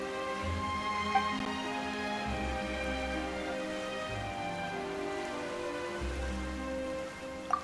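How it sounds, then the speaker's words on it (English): Steady rain falls in the video game Genshin Impact, a soft continuous patter under a droning ambient background score, with no voices. "Why is it raining all of a sudden?"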